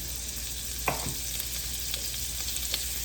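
Macaroni with butter and olive oil crackles softly in a frying pan, a quiet steady sizzle broken by a few light stirring clicks and scrapes.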